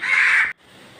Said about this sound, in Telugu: కాకులు నేను పెట్టిన అన్నం తింటా భలే సందడి చేస్తున్నాయి